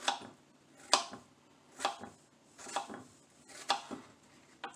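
A knife cuts through fresh strawberries on a board in five crisp, evenly spaced chops, close and clear against a quiet room, with no speech.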